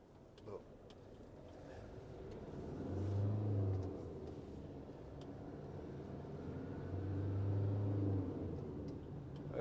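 A Fiat Ducato 2.3 MultiJetII 35 Tecnico van under way on a test drive, a low engine drone with road rumble that swells twice as it accelerates, heard from inside the cab with no talk.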